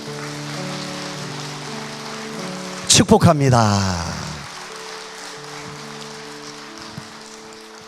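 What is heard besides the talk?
church congregation applauding as a blessing for newcomers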